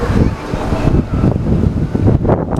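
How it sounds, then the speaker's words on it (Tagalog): Strong wind buffets the microphone in steady loud gusts, with a rushing outdoor roar by choppy water that carries on throughout. "Lakas ng hangin no, kaya yung wave ng water."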